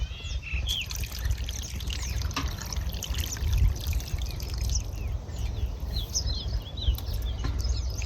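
Water trickles and pours steadily while fish is rinsed in a second wash, a continuous close splashing dribble with faint bird calls in the background.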